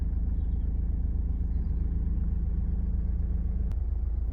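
A Honda CR-V 2.2 i-DTEC diesel engine running steadily at idle, a low, even rumble held throughout with one brief click near the end and no talk.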